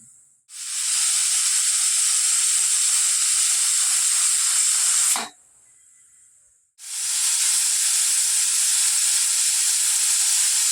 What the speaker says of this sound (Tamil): இப்போ வந்து சாப்பாடு வந்து வெந்துருச்சு மூணு விசில் வந்துருச்சு